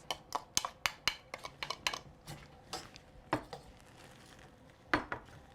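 Onions go into a pan of softened butter as part of a Thanksgiving meal, heard as a quick run of close, sharp clinks and taps of utensils against the pan, several in a row early on, then scattered knocks.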